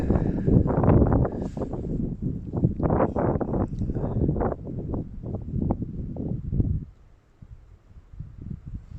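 Strong wind gusting across an outdoor Catholic cemetery at night, buffeting the microphone in heavy rumbling bursts before dropping off toward the end.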